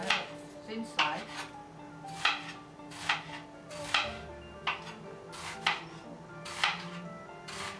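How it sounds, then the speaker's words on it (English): A knife slices an onion thin on a board, giving about eight sharp, evenly spaced chops that ring out close and distinct against a quiet kitchen background. "And then you cut it thin slice."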